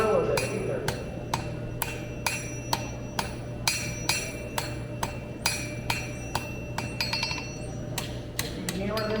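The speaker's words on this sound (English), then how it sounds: "On forging thin material like this, now you want to move it constantly, one hit per side." Hammer blows ring out on thin metal during a blacksmithing demonstration, sharp, bright strikes at a steady, unhurried pace with a quicker flurry near the end, over a constant low hum.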